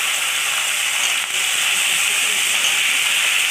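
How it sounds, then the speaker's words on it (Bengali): Potatoes dropped into hot oil in a wok while a spicy crab curry is being cooked sizzle with a loud, steady broadband hiss that holds evenly throughout. "গরম হয়ে গেছে। এই যে আলু দিয়ে দিচ্ছে,"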